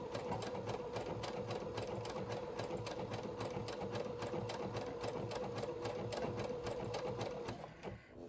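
A household sewing machine stitches with a triple needle in a fast, even mechanical rhythm that runs steadily close up for about eight seconds, then slows near the end.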